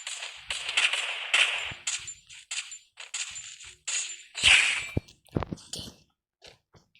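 Sharp, snappy video game gunshots crack in quick irregular bursts, some single and some doubled, with short quiet gaps between them and no talking.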